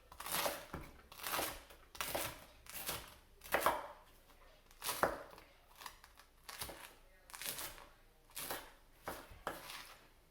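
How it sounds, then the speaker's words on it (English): Knife chopping garlic or bread for garlic croutons on a cutting board, a steady series of crisp taps in uneven bursts close by, with no talk. "I'm going to chop these really finely."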